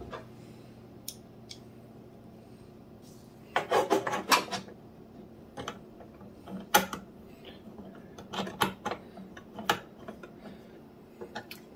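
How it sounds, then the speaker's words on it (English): Small screws and washers being driven in and fitted by hand while mounting a Gigabyte Eagle RTX 4070 Ti graphics card, a quiet close series of metallic clicks, taps and scraping creaks in scattered bursts. "there's going to be 3 screws and 3 washers that I need to screw in."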